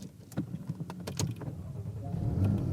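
A Porsche Boxster being started: a few clicks and light mechanical ticks, then the engine's low rumble swells up near the end.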